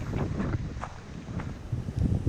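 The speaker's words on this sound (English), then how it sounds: "The wind is freaking picking up." Strong gusty wind buffets the microphone outdoors on open water beside an inflatable paddleboard, a loud continuous roar that swells and dips, with faint knocks and rustles and no talk.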